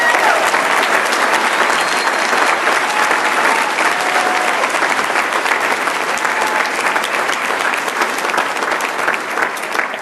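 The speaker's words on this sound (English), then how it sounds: "Please give all of our corporate leadership sponsors another big round of applause" A big round of applause at an awards dinner for corporate leadership sponsors, dense continuous clapping from a large crowd in a banquet hall, sustained at an even level throughout.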